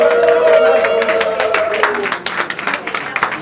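Audience at an evening awards gala claps for the actors, dense applause that holds steady and loud at first, then thins into scattered individual claps toward the end, with a faint tonal sound fading out early.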